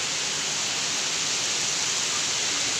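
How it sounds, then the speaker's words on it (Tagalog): Heavy rain pours steadily during a typhoon (Bagyong Carina) in the Philippines, a dense, continuous broadband hiss with no breaks and no voices. "lakas ng ulan dito"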